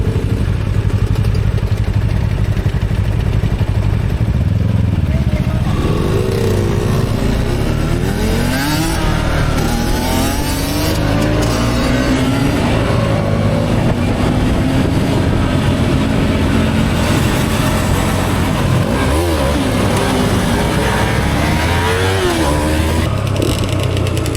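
Several motorcycle engines run and rev loudly up close at a small group ride, a steady droning rumble with rising and falling revs throughout.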